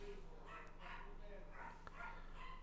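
A dog barks repeatedly, about half a dozen quick barks spread across a few seconds. It sounds somewhat distant against a steady low hum, and a short voice briefly cuts in.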